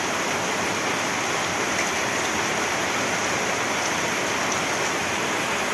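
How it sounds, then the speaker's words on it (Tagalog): Heavy rain pours down steadily near a window overlooking rice fields, a loud, even, dense hiss with no pauses and no voices. "Lakas ng ulan."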